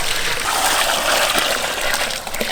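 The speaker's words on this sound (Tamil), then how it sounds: "பருப்பு அவிக்கனால தண்ணி ஊற்றிக்கணுங்கக்கா." Water being poured for boiling lentils in a village kitchen makes a steady, close splashing trickle with brief gushes and no voices.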